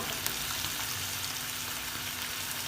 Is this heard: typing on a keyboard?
no